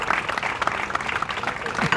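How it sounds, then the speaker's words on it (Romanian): Audience applause, dense and continuous clapping from a small crowd, fairly close and steady throughout. "Eu vă aplaud."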